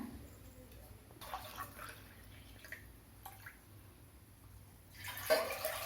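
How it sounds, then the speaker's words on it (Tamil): Water splashes and trickles into a pressure cooker in a few short bursts, fairly faint, with a louder pour near the end. "குக்கரில் தண்ணி ஊற்றிக்கணும்"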